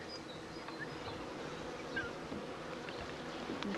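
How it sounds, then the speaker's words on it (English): A steady, dense buzzing of many honey bees from an opened hive hums throughout, close by and continuous, with no voices. "because we have some loose bees now"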